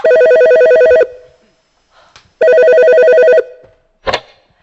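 Telephone bell rings in two loud, clean bursts of rapid trilling, each about a second long with a pause between, followed by a short click as the handset is picked up.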